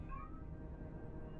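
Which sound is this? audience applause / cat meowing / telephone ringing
cat meowing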